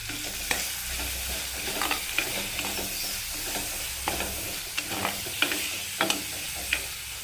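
Onion, green chili and curry leaves fry in hot oil with a steady sizzle, while a spoon stirs and scrapes the pan in a series of sharp, irregular clicks.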